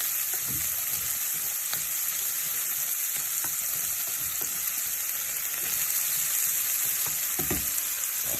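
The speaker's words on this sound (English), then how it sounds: "you just want to cook your onions and garlic until they're like a little soft and translucent" Onions and garlic fry over medium-high heat for a Filipino pancit palabok, a steady loud sizzle running throughout with occasional scrapes and clicks of stirring, no voices.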